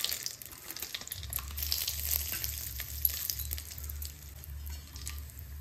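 Whole spices (cardamom, a torn bay leaf, two dried red chillies and a cinnamon stick) crackle and sizzle in hot oil for tempering a mutton curry, a steady hiss with small pops and no speech.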